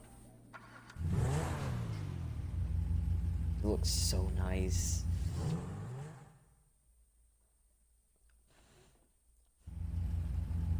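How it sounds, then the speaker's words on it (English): A Pegassi Vaca sports car in Grand Theft Auto 5 revs and accelerates loudly, then the engine fades away and comes roaring back near the end, with a voice speaking briefly over it. "This thing is based off the Lamborghini Gallardo."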